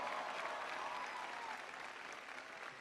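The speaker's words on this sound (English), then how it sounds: "can everybody please give Katie an unbelievable round of applause for that great introduction" An audience applauds steadily after a speaker's introduction at a President Obama rally at UW, the dense clapping filling the room at an even level throughout and fading only slightly toward the end.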